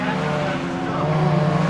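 BMW M3 Cup race car cornering through Hawthorn and the chicane at Croft circuit, its engine droning loudly and steadily with tyre noise, close and continuous without talk.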